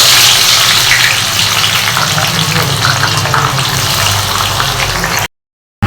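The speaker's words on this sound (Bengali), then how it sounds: "তেলের মধ্যে ছেড়ে দিচ্ছি। এর মধ্যে এবার পেঁয়াজ কুচানো দিয়ে দেব।" Chopped onions fry in hot oil with cinnamon, cardamom and cloves for chicken rezala, a loud, continuous close sizzle and crackle that runs steadily, then cuts off into brief silence.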